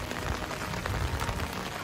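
Rain falls steadily in Shillong, Meghalaya, India, making a dense, even hiss of drops that stays loud and unbroken throughout, with no voices.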